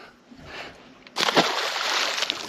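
A saltwater fish caught on a fly is released over the side of a boat, giving a quiet slosh followed by a sudden, louder burst of splashing and churning water that carries on to the end.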